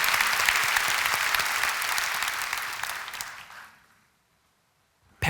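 A church conference audience applauds loudly with dense, sustained clapping that gradually fades out into silence, followed by a brief sharp noise at the end.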